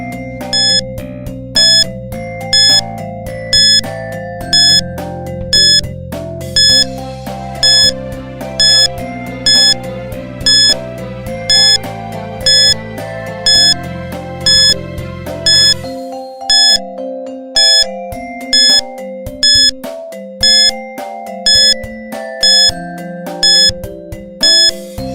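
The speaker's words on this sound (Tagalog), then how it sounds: "Your timer starts now." A 30-second countdown timer for a Grade 4 science classroom activity: steady, evenly spaced beeping ticks over a looping electronic music bed, with no talking.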